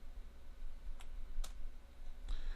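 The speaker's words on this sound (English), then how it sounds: "As I keep typing in command" Commands are tapped out on a computer keyboard during a network switch setup, a few sparse, faint clicks spaced irregularly over a steady low hum, with no talk.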